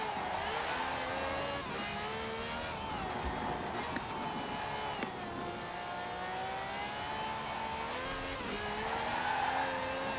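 A fast little car in Forza Horizon 4 accelerates out of corners, its engine note rising and falling through the gears while the tires squeal briefly, loud and continuous with no speech.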